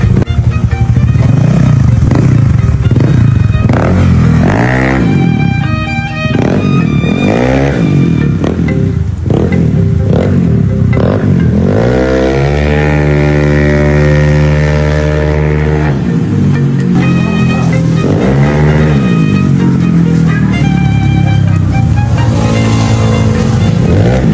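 A motorcycle engine fitted with aftermarket cams revs loudly up close, surging and dropping in repeated bursts, then holding a high steady rev for several seconds before blipping again.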